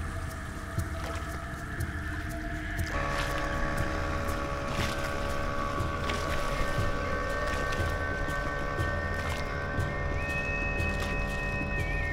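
A tour boat on a lake near Maithon cruises toward a small hill island, a steady engine drone and water wash running throughout, with a higher tonal whine joining partway through.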